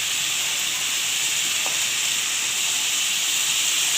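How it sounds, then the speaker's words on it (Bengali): Potatoes frying in a pan give a steady, even hiss and sizzle throughout, close and unchanging, with no voices. "এবার আমি আলুটাকে ভালোভাবে ভেজে নিচ্ছি"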